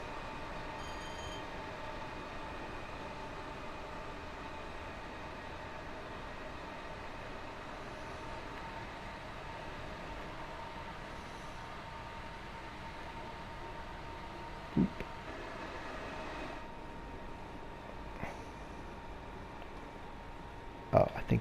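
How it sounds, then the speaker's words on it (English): A BR Class 314 electric train in Train Sim World 2 runs steadily with a low rumbling hum and faint whining tones, plus a couple of brief clicks near the end. "Being very overly cautious with this train"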